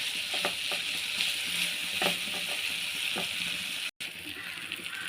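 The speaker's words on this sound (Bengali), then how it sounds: "এবার আমি এই যে ভেজে রাখা উপকরণগুলো দিয়ে দেব, দিয়ে একটু কষিয়ে নেব।" Fried ingredients being sautéed in cooked spice paste for muri ghonto, a continuous bright sizzle with soft stirring scrapes and occasional thumps, close and steady, with a brief dropout near the end.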